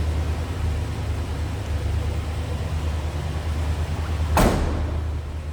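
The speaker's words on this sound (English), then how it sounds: "Door closes nicely, sounded solid too." Door of a 1973 Ford F-100 Explorer regular cab pickup shuts with a single solid thump near the end, preceded by a steady low rumble of background noise.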